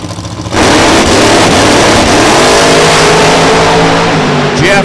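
Drag racing cars launch at an outlaw dragway, one supercharged with a big blower and one nitrous-assisted, a sudden deafening engine roar that cuts in after a brief idle and holds at full volume.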